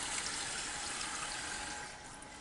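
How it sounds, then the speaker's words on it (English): Cold water running from a tap onto small pieces of colored paper, a steady faint hiss and splash that continues throughout without pause. "The next step is to turn on your cold water"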